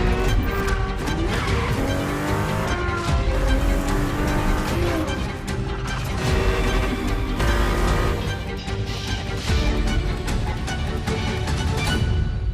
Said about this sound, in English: The Ferrari F50, a bridge between road and racetrack.